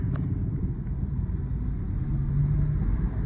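A car accelerates through a U-turn in traffic, its engine a low steady rumble that swells slightly toward the end, with no talk over it.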